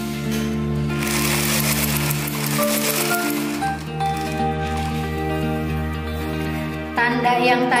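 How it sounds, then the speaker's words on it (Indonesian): A sewing machine stitching elastic onto the edge of a gathered skirt, running continuously with a steady mechanical hum and rapid needle rattle, close and loud, with a brief change in pace near the end. "Kita jahit di tepiannya."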